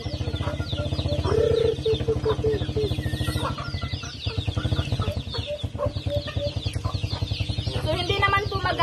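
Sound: native chickens clucking

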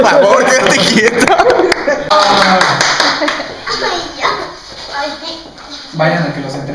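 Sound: clapping, applause for Elena

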